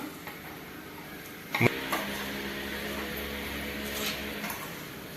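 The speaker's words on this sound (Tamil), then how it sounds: "இந்த பொரியை போட்டுடலாம்." Spicy puffed rice tipped into a pan off the heat: a brief clatter, then light dry rustling and crackle over a steady kitchen hum.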